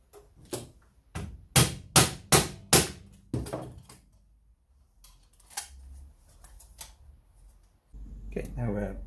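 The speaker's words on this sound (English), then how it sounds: "I'm going to twist these outwards with some percussive maintenance" Metal parts being hammered outwards during fitting of articulated armour knees: a fast run of loud, sharp metallic strikes near the start, then quieter handling and shuffling, with a voice talking toward the end.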